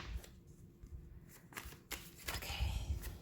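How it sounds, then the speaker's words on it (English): A deck of tarot cards shuffled close by, a quick run of papery riffles and flicks in several short bursts, with no talking. "That's not a good shuffle."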